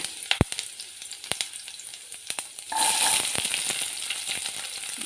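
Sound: onions frying in hot oil

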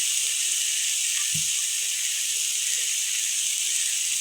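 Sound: water poured into hot pan with sautéed jackfruit curry, hissing

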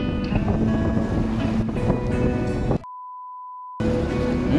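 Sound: boat cutting through sea water

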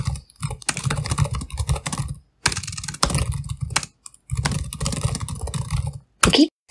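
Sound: typing code on a computer keyboard

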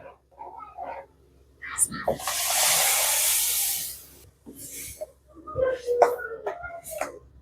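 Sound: tomato paste simmering in pan

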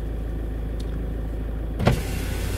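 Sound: Volvo electric power window motor lowering window

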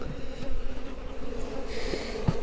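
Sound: honey bees buzzing at an opened beehive

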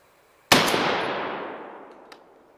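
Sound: M855 rifle round fired at half-inch mild steel plate

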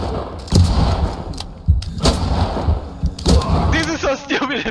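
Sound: gunshots in the video game Ready or Not

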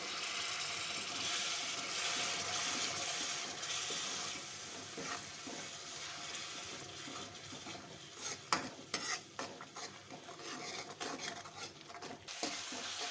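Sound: spices frying in pan with water

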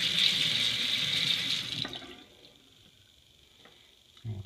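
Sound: hot water running from a faucet into a sink

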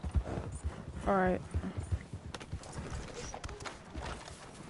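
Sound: horse hooves in video game Red Dead Redemption 2

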